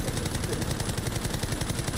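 Rapid, continuous gunfire from Call of Duty: Warzone rattles in a fast automatic burst, loud and dense throughout.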